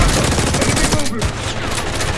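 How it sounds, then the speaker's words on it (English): Loud gunfire in the Call of Duty Black Ops 6 video game, with heavy blasts in a dense, continuous barrage of close combat noise. "How about a shotgun blast to the face?"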